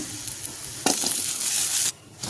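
Shallots, onions, whole garlic cloves and chillies sauté in a pan for a coriander chutney, a loud close sizzle with stirring scrapes that cuts off abruptly, then resumes.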